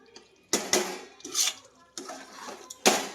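A spoon scrapes and clatters around a metal pressure cooker while chicken biryani masala is stirred, four or five sharp, close scraping bursts separated by short pauses.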